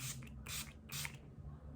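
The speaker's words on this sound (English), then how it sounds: "Using my All Nighter by Urban Decay. I'm gonna spray my face" Urban Decay All Nighter setting spray is misted onto a face in three quick, soft hissing pumps, close and quiet, each lasting about a quarter second.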